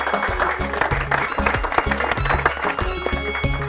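A small group claps loudly and steadily at a certificate ceremony. The applause is close and lasts throughout, with a few voices underneath.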